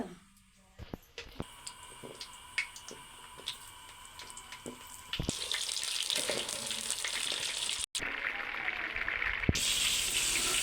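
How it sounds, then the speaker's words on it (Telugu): Eggplant pieces drop one by one into hot oil in a pan, starting with quiet clinks and taps, then breaking into a steady loud sizzle that continues to the end with one brief interruption. "స్టవ్ మీద బాండీ పెట్టి ఆయిల్ పోసుకున్నాను ఆయిల్ హీట్ అయిన తర్వాత ఇలా ఒక్కొక్కటిగా"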